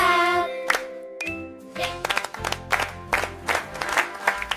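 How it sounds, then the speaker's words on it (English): Hand clapping rings out in a children's phonics lesson, a burst of quick, crisp claps following a bright chime, the rhythmic slaps close and moderately loud over light musical tones. "Clap."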